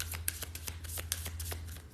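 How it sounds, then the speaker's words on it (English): Playing cards shuffled for a reading, soft quick riffles and taps in an irregular flurry, faint and close, with no voices. "as I shuffle"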